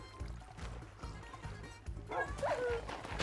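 Dog in the Minecraft video game, faint short barks followed by a high whimper, over low background game sounds without speech.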